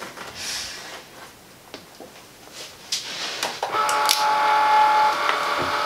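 A Cricut cutting machine taking in and cutting paper: a few clicks and taps, then a steady motor whir with a high mechanical whine near the end.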